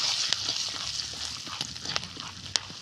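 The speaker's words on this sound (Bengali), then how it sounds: "এই দেখুন কি সুন্দর ফুটছে" Corn kernels crackle in hot white oil in a pan for popcorn, a steady frying hiss broken by scattered sharp pops, the loudest near the end, with no voices.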